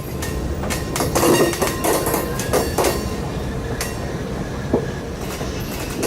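An Orlando and Northwestern freight train rolls slowly past at a crawl with rumbling wheels, irregular clicks and clanks from the rails, steady and fairly close.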